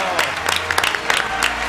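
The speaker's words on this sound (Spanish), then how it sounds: "un aplauso." Brief burst of studio audience applause on an Argentine talk program, a close, uneven patter of hand claps filling the short stretch.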